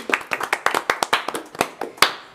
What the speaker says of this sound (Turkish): O zaman bir alkış alıyoruz sana.